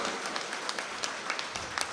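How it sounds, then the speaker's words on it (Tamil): Audience claps at a Tamil comedy debate show held for Kaanum Pongal, a brief, fairly faint round of applause with scattered individual claps standing out. "நல்ல ஒரு பலத்தை கைத்தட்டல கொடுக்கலாம்"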